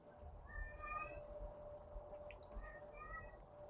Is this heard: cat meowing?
yes